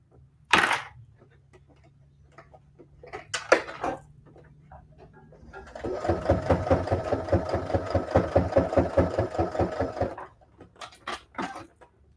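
A sewing machine runs in one steady burst of several seconds, its needle hammering in a rapid, even rhythm as it stitches bias tape onto fabric. Quiet handling clicks and rustles come before and after the run.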